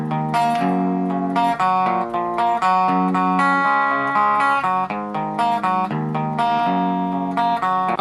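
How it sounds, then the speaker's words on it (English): A single clean electric guitar plays a chord part, repeating strummed chords in a steady rhythm, clear and close with no other instruments or voices. "then we're just left with one regular clean guitar"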